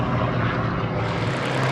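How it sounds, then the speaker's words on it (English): A Grumman F8F Bearcat propeller warbird flies past at an airshow, its piston engine a loud, thick, continuous roar with a strong low drone throughout. "The naval theme continued next with the Fighter Collection's Grumman F8F Bearcat"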